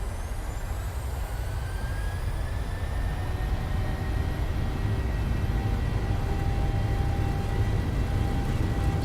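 Twin jet engines of a PMDG 737 in Microsoft Flight Simulator spooling toward takeoff thrust, a steady loud roar with rising whining tones sweeping upward, continuous throughout.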